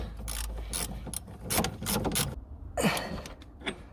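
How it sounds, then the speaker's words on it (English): A spanner ratchets a nut tight on a car drop link during installation. The metallic clicking is close and comes in several short bursts, with a brief creak between strokes. "This is the part where the spanner on the back does come in quite handy"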